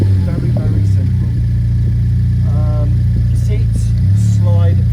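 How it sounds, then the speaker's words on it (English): A Morgan sports car engine, started after the rear fuel pump primes, idles with a steady, deep drone close by. The low rumble continues unbroken and swells briefly near the end. "and then you can fire the car up."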